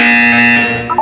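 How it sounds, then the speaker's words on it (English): A steady electronic buzzer tone sounds in the Portal 2 test chamber, a loud sustained drone lasting about a second before cutting off. "You will hear a buzzer."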